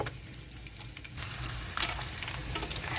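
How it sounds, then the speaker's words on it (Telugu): Boiled potato pieces frying in hot oil for potato gravy, a steady soft sizzle that grows slightly louder partway through, with a few faint scrapes of stirring and a clink near the end. "ఎర్రగా వేగిపోవాలండి దుంపలు"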